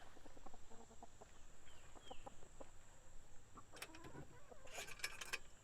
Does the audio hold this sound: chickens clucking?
yes